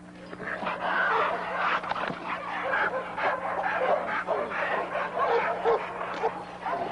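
Dogs fighting on a breeding ranch during a morning walk, a fairly loud tangle of barks, snarls and yelps that stays dense and continuous throughout.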